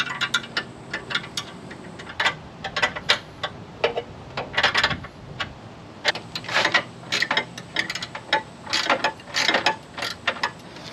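A hand ratchet tightens bolts on a Mishimoto oil cooler fitted to a GTO, giving repeated bursts of crisp clicking strokes with short pauses between them, close up and with no talking.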